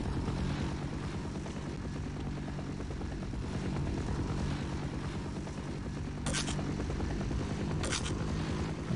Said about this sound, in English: The sound of that VTOL is just annoying